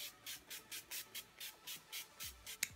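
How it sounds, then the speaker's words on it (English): Ten or so short bursts of NYX Matte Finish Setting Spray misted onto a face, evenly spaced and close by, each a soft misting hiss, with no talking. "I'm just going to take the NYX Matte Finish Setting Spray and put that all over my face."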